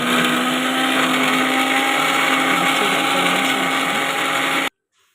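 A kitchen mixer grinder grinds roasted coconut in its jar with a loud, steady motor whine and rattle for several seconds, then cuts off abruptly into silence.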